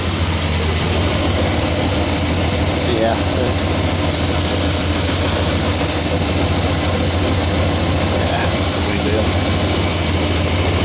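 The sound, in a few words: Dodge Ram truck engine idling with slight exhaust leak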